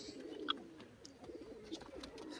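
A highflying pigeon with a gold ring and yellow eyes coos softly, a low, faint murmur under steady background noise.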